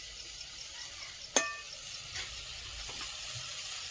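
Water goes into large prawns frying in a pan, with a steady soft sizzling hiss. A single sharp clink sounds early on.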